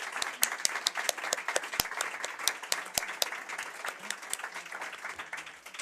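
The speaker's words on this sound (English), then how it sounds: "Let's give our candidates a round of applause." Audience applause for the candidates at a League of Women Voters School Committee and Council at-large candidate forum in Amherst, a steady mid-sized round of clapping that continues for about six seconds.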